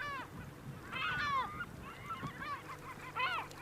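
Dalmatian pelicans, cormorants and gulls at a crowded colony in the Volga delta give repeated harsh honking, goose-like calls in several overlapping bursts, fairly close and loud over a steady low background.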